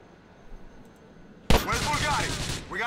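Sniper rifle fire in GTA IV, The Ballad of Gay Tony: after a quiet lull, one sharp close shot cracks out, followed by a loud sustained roar of game noise and action with a voice mixed in.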